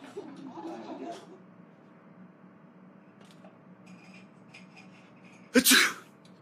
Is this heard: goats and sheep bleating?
no